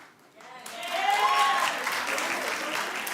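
A live studio audience bursts into applause for a favorite sitcom character, the clapping and a few cheers swelling loudly after a brief pause and then holding steady, with a voice briefly heard over the start.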